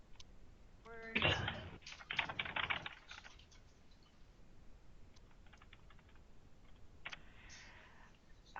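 Keyboard typing in bursts, a fast cluster of clicks then a second run of keystrokes, followed by quieter scattered taps; fairly close and moderately loud with no talk over it.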